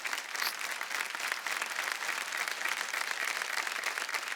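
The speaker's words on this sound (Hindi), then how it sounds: "अमेजिंग परफॉर्मेंस, जोरदार तालियां हो जाए" A television studio audience on a drama talent show claps steadily after a performance, with a dense, even wash of applause that holds for several seconds at moderate level, with no voices.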